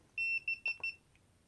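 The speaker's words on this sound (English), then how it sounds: "have to excuse the beeps." A KSGER STM32 soldering station emits a quick run of sharp electronic beeps, several short tones in a row followed by a faint final blip, close and clear in a quiet room.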